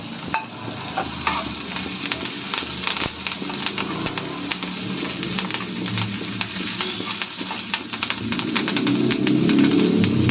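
Dried red chillies and curry leaves sizzling in hot oil in a home kitchen pan, a continuous crackling fry with sharp spitting pops that grows fuller and louder toward the end.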